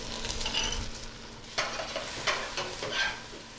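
Onions and garlic frying in a pan in a boat's galley, stirred with scraping spoon strokes over a continuous close sizzle, with a couple of brief louder scrapes and no talking.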